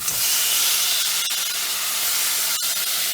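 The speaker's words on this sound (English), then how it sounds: "I'm just gonna lay all this coconut cream into the pot." Thick coconut cream hits a hot heavy pot on a stove and hisses loudly in a steady, close sizzle with no talking.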